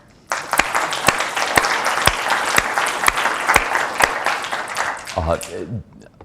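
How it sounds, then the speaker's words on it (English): A room full of people at a special event applauds, with a few sharp, loud claps standing out above a dense, even wash of clapping. The applause runs steadily, then fades near the end as a voice begins speaking. "Maybe we can give them all a round of applause."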